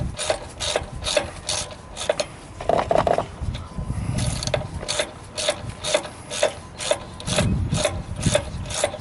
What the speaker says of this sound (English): I tighten it.